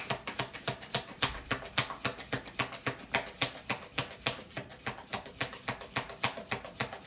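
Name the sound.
shuffling tarot cards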